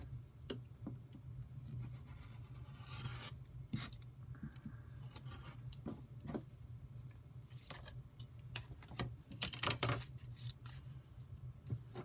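Scissors trimming excess fabric while piecing a quilt block, a series of short crisp snips and paper-like rustles at irregular intervals, close and fairly quiet over a low steady hum.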